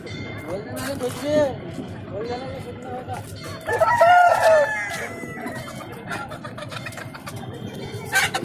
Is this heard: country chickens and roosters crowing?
yes